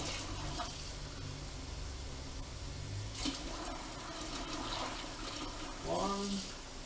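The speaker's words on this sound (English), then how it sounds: "I'm going to add 7 cups of cold water here." Cold water pours from a tap into a pot for beef stew, making a continuous rushing splash that stays steady and fairly loud, with a brief burble near the end as the pot fills.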